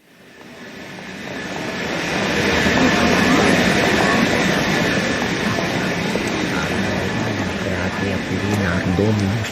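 Steady rumble of a train running on rails, a radio drama effect set on a Victorian-era train, rising in over the first two seconds and holding loud and continuous throughout.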